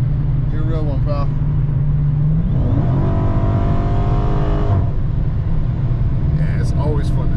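A Dodge Challenger Scat Pack Hemi V8 accelerating, its engine note climbing in a steady rising pull before backing off, loud under constant road and cabin noise, with someone talking around it.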